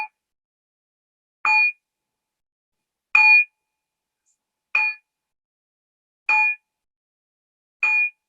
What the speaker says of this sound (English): You'll hear the bell.